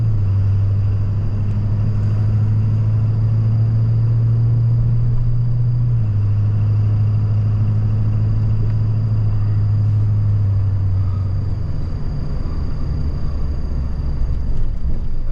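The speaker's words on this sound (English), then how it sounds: "This is probably our oldest truck. So this is a Ford F350" An old Ford F350 truck drives along with a steady deep engine drone and road rumble from inside the cab, the pitch shifting slightly as it moves, with no talking.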